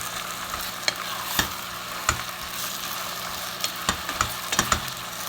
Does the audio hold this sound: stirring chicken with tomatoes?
yes